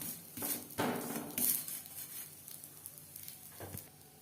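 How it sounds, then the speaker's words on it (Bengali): A cauliflower paratha fries in butter and refined oil on a pan, giving a quiet, steady sizzle with a few louder bursts and faint clinks. "একটা সাইড ভাজা হয়ে গেলে অপর সাইডটা উল্টে দেব।"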